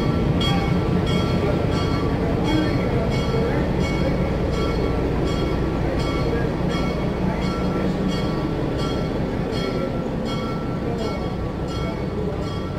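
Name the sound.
excursion train leaving at Canal Days, Metamora, Indiana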